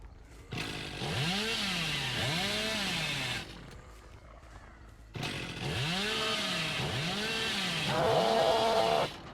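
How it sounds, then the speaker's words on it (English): In the video game Dead by Daylight, the Hillbilly's chainsaw revs in two long bursts with a pause between, its pitch rising and falling in repeated sweeping whines, loud and close with no talking. "My chainsaw's gonna overheat."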